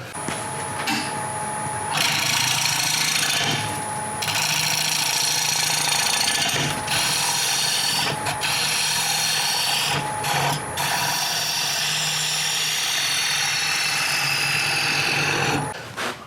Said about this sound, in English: And so now I am going to flatten the surface.